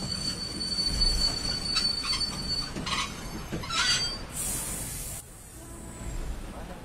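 An express train's wheels squeal sharply against the rails as it brakes suddenly to a stop, grinding and hissing loudly before easing off.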